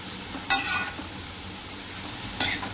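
Fenugreek leaves sautéing in a pan, a steady low sizzle broken by two sharp bursts of stirring scrapes, one early and one near the end, close and clear with no talk.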